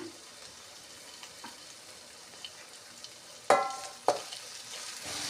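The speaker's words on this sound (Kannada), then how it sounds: "ಈಗ ಎಲ್ಲ ಕುದೀತಾ ಇದೆ ರೀ ಎಲ್ಲ ಮಸಾಲೆ" Spice masala for North Karnataka style cabbage palya bubbles quietly in a pan, a low steady simmer broken by two sharp clinks of a utensil against the metal.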